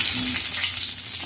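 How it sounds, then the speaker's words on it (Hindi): A bay leaf sizzling in hot mustard oil in a wok, a continuous bright frying hiss heard up close with no voices. "कड़ाई रे सोरिष तेल को गरम करवा। एथिरे तेजपत्र को दबा।"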